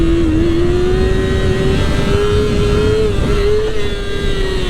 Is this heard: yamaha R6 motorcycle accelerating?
yes